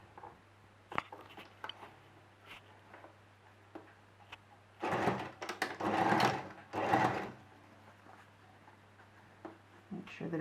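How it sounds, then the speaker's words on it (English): A sewing machine stitches along the outside of a dress sleeve in a few short bursts of rapid clatter, surrounded by quieter handling clicks and taps. "We sew on the outside of the sleeve"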